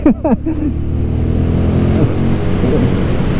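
A Royal Enfield Guerrilla 450 motorcycle accelerating, its engine note loud and close as it rises into a steady drone, with a brief burst of speech at the start.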